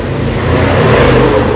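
Scooter or small motor vehicle passing close by inside a mall entrance area in America, a steady engine drone with revving that swells slightly toward the end, loud throughout.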